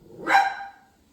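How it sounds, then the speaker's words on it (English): A single dog bark rings out close and loud in a home during a live show, a sharp burst that fades within a second, with no talking over it. "The dog barking back here"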